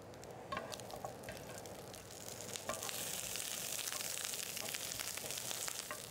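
Peppers and onions fry in a pan, giving a steady, close sizzle that swells louder halfway through, with occasional sharp pops and crackles.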